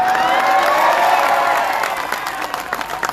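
A crowd at a political corner meeting claps and cheers loudly, a dense wash of applause that swells and then thins out into scattered claps.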